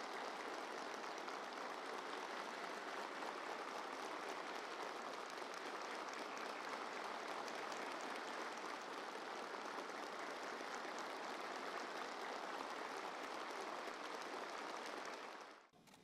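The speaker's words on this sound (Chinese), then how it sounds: "在热烈的掌声中，习近平亲切接见南部战区海军官兵代表" Navy officers and soldiers of the PLA Southern Theater Command give sustained, dense applause for about fifteen seconds, a steady roar of many clapping hands that fades out abruptly at the end.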